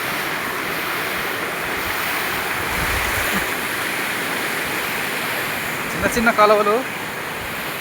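Kothapalli waterfall at Paderu during the rainy season roars as a loud, steady wall of rushing water with wind buffeting the microphone, and a voice briefly speaks over it near the end.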